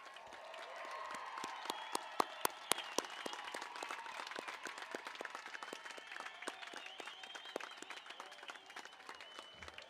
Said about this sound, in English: can we have a round of applause for the class of 2021?